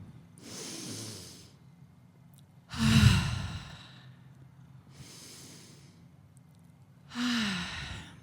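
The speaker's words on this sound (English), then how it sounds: "Yawning's a good sign." Slow, breathy yawns and long sighing exhales during a quiet guided breathing meditation, two of them louder with a low voiced groan, separated by soft breaths.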